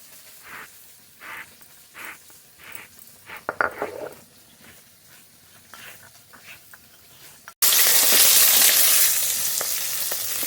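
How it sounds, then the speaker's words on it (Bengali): Scraping and clinking in a pan, then a loud, steady sizzle of small hilsa fish frying in hot oil that continues to the end. "এই মাছগুলো ভাজা হয়ে গেছে নামিয়ে নেব"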